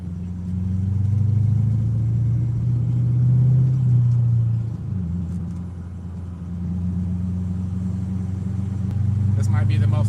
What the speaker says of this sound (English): I got the green light here. Yes, I'm driving a standard.